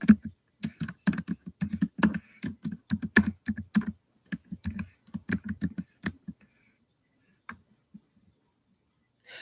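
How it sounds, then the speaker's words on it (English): Fingers type rapidly on a computer keyboard nearby, with dense bursts of clicking keystrokes and short pauses between them. The typing then stops, leaving only a few isolated taps near the end. "I'm gonna type it up right now."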